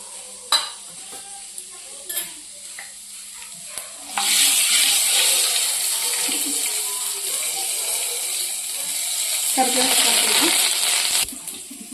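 Mustard seeds and cumin sizzle and crackle in hot oil in a home kitchen pan, starting with faint pops, then breaking into a loud steady fry for about seven seconds before dying back down.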